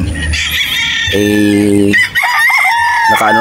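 Loud gamecock roosters crow one after another at a game farm in Batangas, long strained calls close by, with clucking hens mixed in.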